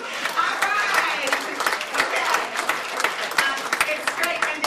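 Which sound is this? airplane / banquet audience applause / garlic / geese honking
banquet audience applause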